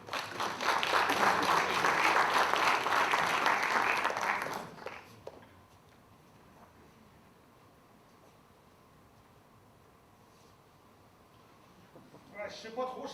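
An audience breaks into dense, steady applause that fills the first few seconds and then stops abruptly, leaving near-silent room tone with a faint stir at the very end.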